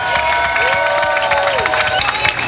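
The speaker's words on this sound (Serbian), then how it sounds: "Aplauz za volontere!" Crowd at the Belgrade Business Run 2017 applauding and cheering for the volunteers, a dense, steady wash of clapping and shouts, with a sustained tone gliding through the middle.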